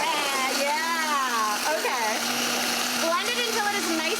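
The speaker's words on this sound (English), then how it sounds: "let's see if the blender is my friend today" A kitchen blender whirs continuously, blending a frozen margarita cocktail, a loud steady motor drone with a sustained tone, while a voice talks over it with rising and falling inflection.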